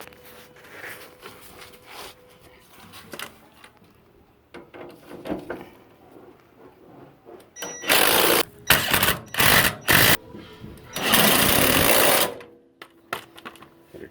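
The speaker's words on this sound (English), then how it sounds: "Now to tighten up all the other bolts." Bolts on a 1966 Mustang's steering linkage being tightened with a wrench and extension, quiet clicks and clatter giving way to loud bursts of rapid ratcheting close by, with no talk.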